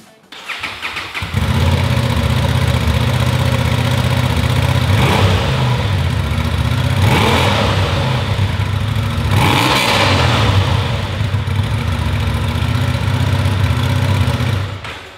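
A Honda Transalp XL750 motorcycle engine cranks and fires up, then runs steadily close by with a deep, loud idle broken by several sharp throttle blips that rev and fall back, with no talk.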